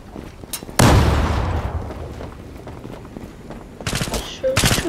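A bomb detonates in the online shooter Zula, a loud close boom with a long rumbling decay, followed by bursts of gunfire and game effects.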